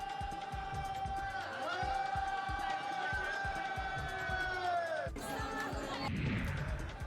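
A New Year crowd celebrates at midnight at Shirdi temple with fireworks and drum-led dancing: a rhythmic pounding drumbeat runs under sustained horn-like tones and crowd noise, with a sharp bang near the end and voices mixed in.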